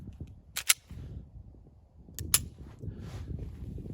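A PSA Micro Dagger pistol is dry fired, giving two sharp, quiet trigger clicks about a second and a half apart, with faint low handling noise in an otherwise quiet room.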